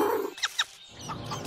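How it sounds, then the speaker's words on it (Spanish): Animated cartoon chickens clucking and squawking in short bursts, a couple of sharp high calls standing out over a low background rumble. "¿Pueden oír las gallinas?"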